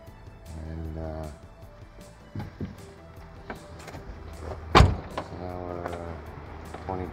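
An electric power window motor whirs in an EK hatchback fitted with swapped-in power doors, two steady whining runs of about a second each, close by, separated by clunks and a sharp knock.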